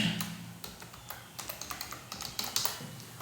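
Rapid clicking of keys on a computer keyboard while entering text in drafting software, steady light taps close by and alone, with no talking.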